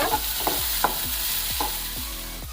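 Chopped onion frying in a pan for samosa filling sizzles close and steady under about half a dozen rhythmic scraping stirs, with no talking.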